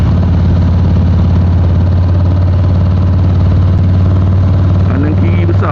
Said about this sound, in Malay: Sekarang ni kita layan footage aku membawa motor ni